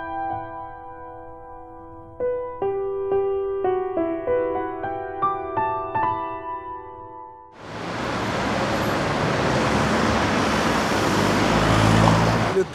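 Car traffic on a busy city ring road roars as a dense, steady wash of engine and tyre noise, loud and close, arriving abruptly after a short plucked melodic jingle.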